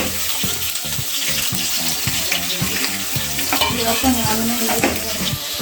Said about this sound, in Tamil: அதில் போட்டிருக்கிறத வெங்காயம், பச்சை மிளகாய், பூண்டு வந்துட்டு பொன்னிறமாக வந்துட்டு வதங்கலாம்.